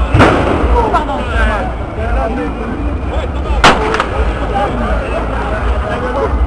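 A sharp, loud firecracker bang goes off nearby amid a noisy street protest crowd murmur, with another crack at the start.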